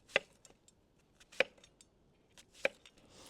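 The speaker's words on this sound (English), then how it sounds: "I've just got a red onion. I've already peeled it, and I'm just going to cut it into wedges." A knife cuts a peeled red onion into wedges, making three crisp, evenly spaced chops with a few faint clicks between them in a quiet room.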